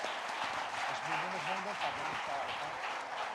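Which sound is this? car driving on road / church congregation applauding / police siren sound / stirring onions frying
church congregation applauding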